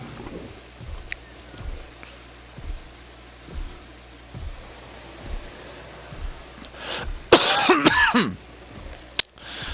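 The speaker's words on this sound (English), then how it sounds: "I still got a little bit of a cough" Short, sharp bursts of coughing and throat clearing from a person, coming in an irregular series of dull hacks, with a louder cluster near the end over a faint background hiss.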